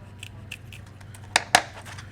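Kitchen scissors snip the face off a soft-shell blue crab: a few faint light clips followed by two sharper, louder cuts close up, with no talking.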